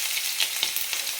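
Mustard seeds dropped into hot oil for a Kerala fish pickle give a brief, steady sizzle with a few sharp crackling pops, close and fairly quiet, with no voices.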